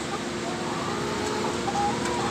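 Hens clucking in the compartments of nest boxes in a laying house, a dense, steady chorus of overlapping clucks and murmurs close by, with no clear pauses throughout.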